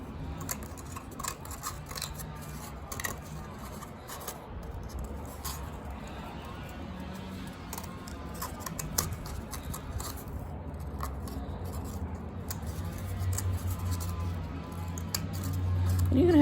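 Scissors cutting around a cardboard toilet paper roll during a children's craft, with quiet snipping and rubbing sounds close by.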